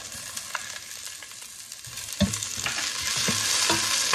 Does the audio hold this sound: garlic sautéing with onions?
yes